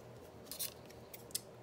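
Scissors snipping a small paper card pocket for a strawberry-themed journal, a few short crisp cuts close to the microphone over a quiet room.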